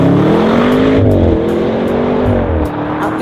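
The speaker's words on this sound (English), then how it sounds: "At the RS6's heart is a rabid 4-litre biturbo V8" Audi RS6 Vorsprung with a 4-litre biturbo V8 revving hard, a loud, close engine note rising and falling through gear changes with a throaty low rumble and no talking.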